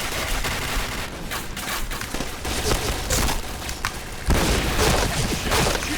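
Shotgun fire in the Point Blank shooter game: a string of loud, booming blasts that overlap in a dense burst, with a heavier, sharper shot toward the end.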